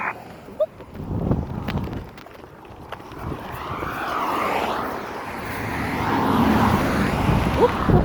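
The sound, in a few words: airplane passing overhead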